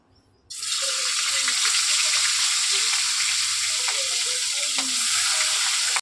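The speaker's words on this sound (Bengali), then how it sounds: "এই যে নুন আর হলদি মাখানো মাছটা তেলের মধ্যে ছেড়ে দেবো।" Large pieces of fish coated in salt and turmeric drop into hot oil, bursting into a loud, steady sizzle that continues close-up with faint bubbling pops until it cuts off.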